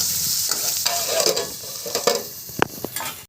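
Potato poha mixture being stirred in a hot pan, a close sizzle with scraping strokes and a few sharp clinks of the spoon against the metal, ending abruptly.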